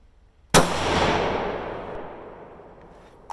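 One sharp rifle shot from a Ruger American Predator in 6.5 Grendel, firing a 100-grain handload past a chronograph outdoors. The loud, close crack rings out and echoes for over two seconds after a quiet start.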